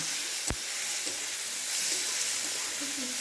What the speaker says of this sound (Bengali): তারপরে আমরা একটু ভালো করে নাড়িয়ে নিলাম।